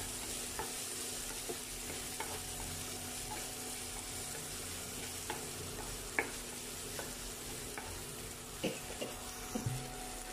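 Onions sautéing in a pan for paniyaram, a quiet continuous sizzle with scattered light ticks and taps of a stirring spoon, no talking.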